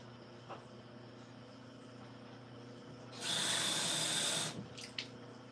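Water runs from a kitchen tap for about a second and a half, a steady loud gush filling a measuring cup for boxed macaroni, set against a quiet room with faint background hum.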